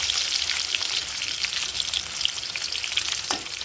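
Potatoes fry on low heat in a pan, giving a steady, close, unbroken sizzle and crackle that holds evenly throughout with no voices.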